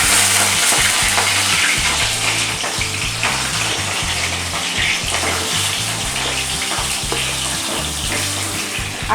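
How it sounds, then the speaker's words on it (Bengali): Pointed gourd (potol) pieces fry in hot oil in a wok, giving a loud, steady, crackling sizzle that continues evenly throughout with no voices. "তেল গরম হয়ে গেলে আমি এর মধ্যে পটলগুলো ভেজে নেব।"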